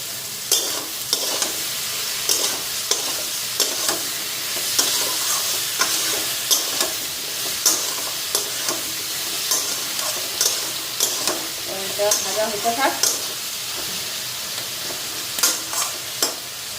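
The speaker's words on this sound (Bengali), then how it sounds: "আমার বেগুনটাও ভাজা হয়ে গেছে" Eggplant slices fry in a pan with a steady, close sizzle, punctuated by regular sharp taps and scrapes of a spatula against the pan throughout.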